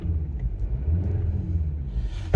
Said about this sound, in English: let's give it a little rev before we get out of here